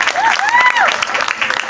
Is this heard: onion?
no